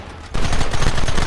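Gunfire in Red Dead Redemption bursts in abruptly after a quiet start, becoming a dense, loud, continuous volley of rapid shots that fills the rest of the moment.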